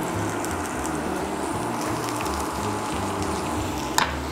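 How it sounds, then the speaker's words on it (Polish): Garlic and onion sizzle steadily in a hot pan, a continuous crackling fry with a soft clink near the end. "Chwilę podsmażamy"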